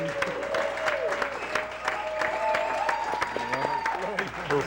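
An arena crowd boos and chants "Lou" for former Minnesota Golden Gopher Lou Nanne, a steady roar with rising calls, while someone talks over it up close.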